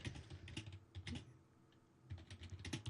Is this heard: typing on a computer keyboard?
yes